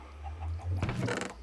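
Minecraft chickens give a short burst of clucking over a low background hum, close and moderately loud near the end.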